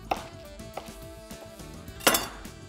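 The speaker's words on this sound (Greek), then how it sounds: "Και αυτό το κόβουμε ωραία κομματάκια." Chicken ramen ingredients being cut into pieces with a knife on a board, several light chopping taps followed by a sharp clink of a utensil against a dish, close and clear with no talking.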